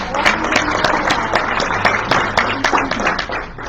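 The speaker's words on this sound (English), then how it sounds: "can we first give Daniela a warm round of applause?" An indoor meeting audience gives a warm round of close, crisp clapping that runs steadily for a few seconds without any talk.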